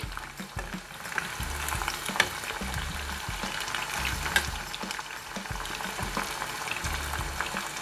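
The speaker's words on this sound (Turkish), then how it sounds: "Hemen kızardı, görüyorsunuz. Kıpkırmızı oldu." Pieces of food fry in a pan with a dense, continuous bubbling sizzle and occasional stirring knocks, close and steady throughout.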